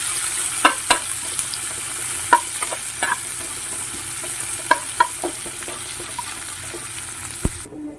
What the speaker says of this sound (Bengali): আলু ভাজার এই তেলে আমি কুচিয়ে রাখা দুটো বড় সাইজের যে পেঁয়াজ নিয়েছিলাম সেটা দিয়ে দেবে এবং হালকা করে ভেজে নেব